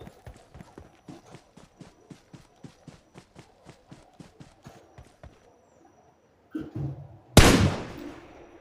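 PUBG gameplay: a steady run of light, regular footfall-like taps, a pause, then a brief rumble and one loud, close gunshot burst that decays slowly.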